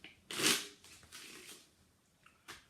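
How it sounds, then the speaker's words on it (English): A deck of playing cards is shuffled up by hand, one loud riffling burst followed by softer quick card shuffles and a final short snap, close and with no talk. "So I shuffle up the cards."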